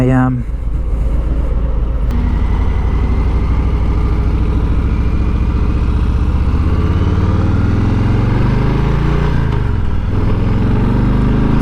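Engine of a new Harley-Davidson Street Bob motorcycle, loud and close, with a steady low rumble that rises in pitch as it revs partway through and then settles, running continuously throughout.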